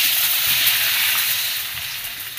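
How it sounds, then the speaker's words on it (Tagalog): Onion, garlic and ginger sizzle loudly in hot oil in a pan, a dense, steady crackling hiss that fades slightly toward the end. "Magisa na po tayo ng sibuyas, bawang at luya."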